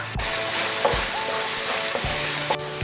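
Beef tripe and beef heart sauté with garlic and onion in a hot pan, giving a steady, close sizzling hiss with occasional soft scrapes and clinks from stirring.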